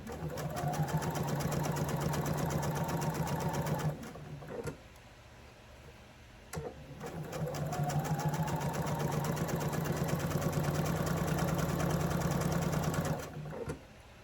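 Sewing machine stitching quilt pieces, a steady close mechanical whir with rapid needle clatter running in two long bursts separated by a brief pause, then resuming and stopping again near the end.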